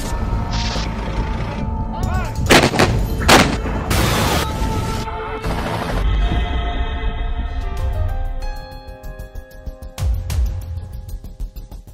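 A series of loud, heavy booms and crashing blasts from the explosion at the port of Beirut, followed by lingering rumble and clatter as the noise slowly fades.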